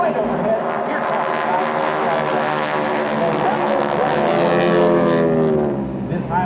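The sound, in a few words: GEICO Skytypers WWII trainer aircraft flying overhead in formation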